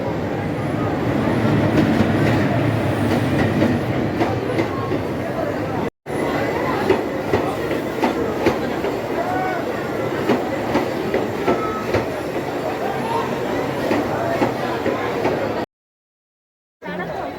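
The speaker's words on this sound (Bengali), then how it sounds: "ঢুকছে আমাদের ট্রেন নাম্বার একশো তিরিশ ষোলো হাওড়া কবিগুরু এক্সপ্রেস" The Howrah Kaviguru Express pulling into a crowded station, a steady loud rumble of rolling wagons with clattering wheels and faint squeals, close by, continuing throughout with a brief dropout near the end.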